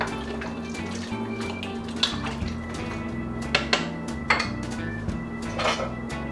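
Chicken curry is stirred in a pot while a curry cube melts, with a utensil clinking and scraping against the pot in irregular taps over a steady wet bubbling background, close by and without talking.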